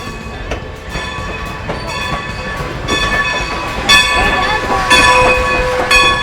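The Strasburg Railroad steam train in Pennsylvania sounds close by, its steady rumble and mechanical ringing filling the scene while people talk over it.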